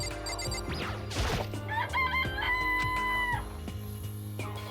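Chickens in the Danganronpa video game crow and cluck over a steady game soundtrack, with a drawn-out rooster call in the middle and several clucks following.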